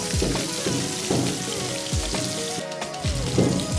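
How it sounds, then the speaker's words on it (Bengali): Katla fish fry in hot oil in a pan as the pieces are turned, giving a steady, close sizzle with soft, regular low knocks from the pan. "আর 1 পিঠ ভাজার জন্য মাছগুলোকে এবার উল্টে নেব"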